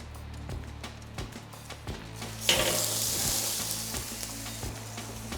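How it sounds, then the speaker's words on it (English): A tomahawk steak searing in a hot pan. A few dull knocks come first, then a loud, steady sizzle bursts up and holds as a broad hiss, with occasional clunks from handling the pan. "All right, let's sear."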